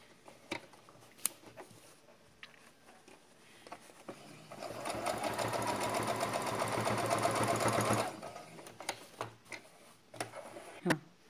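Domestic sewing machine stitching a folded waistband casing on a salwar, running in one steady rapid burst of about four seconds, with softer handling clicks and taps before and after.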